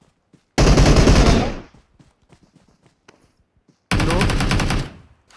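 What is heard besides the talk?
gunfire in the video game PUBG Mobile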